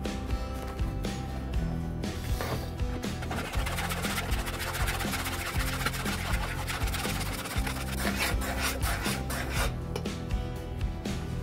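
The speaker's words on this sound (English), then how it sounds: "We're gonna stir it, of course." A spoon stirs a recipe mixture in a bowl, producing a continuous close scraping and rubbing sound with a steady rasping texture, loud and alone without talk.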